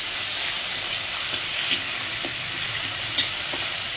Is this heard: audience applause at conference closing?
no